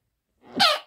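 A single short, sharp sneeze, close and fairly loud, bursting out of near-silence during a mobile puzzle game session.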